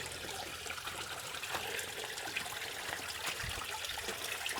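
Steady running water of a grassy creek trickles and splashes continuously, a broad hiss close by with no voices.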